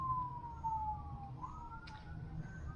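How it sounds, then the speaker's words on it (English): An ambulance siren wails in the distance, its steady, slowly gliding tone drifting over low background rumble without fading out. "I hear ambulance."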